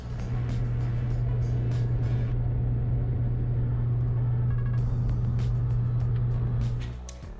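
A car with a Honda K-series engine swap drives along on a test run at low speed, giving a steady droning engine hum with road noise and faint ticks, close and continuous before fading at the end.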